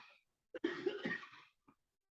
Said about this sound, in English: Gonna cough.